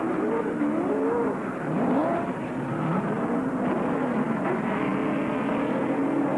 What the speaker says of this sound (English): 2 more go spinning down to the bottom of the racetrack and into the grass